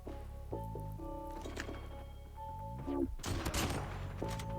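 Kilo Bolt Action rifle firing thermite rounds in COD Mobile, a couple of sharp shots with burning crackle amid game music and effects, moderately quiet overall.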